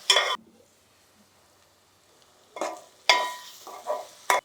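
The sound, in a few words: brinjal pieces cooking in a pan for chicken brinjal curry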